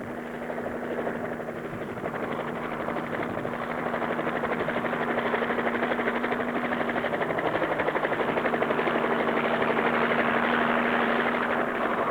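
A helicopter lifts a slung load and takes off at a flight school, its rotor and engine roar loud and steady throughout with a constant turbine whine, building slightly toward the end.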